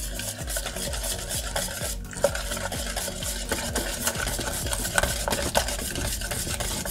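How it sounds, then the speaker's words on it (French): A spoon or whisk stirs soaked gelatin into warm cream to dissolve it, a continuous close swishing with light rhythmic clinks against the pot and no voices. "Donc la gélatine essorée, je l'ajoute et je mélange pour la dissoudre."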